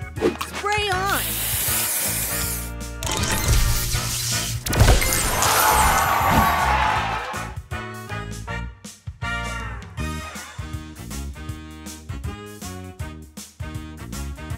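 A hissing, sizzling spray booster effect fires in a match-3 video game, with crashing and smashing game sounds and a bright, layered musical backdrop that settles into rhythmic tones.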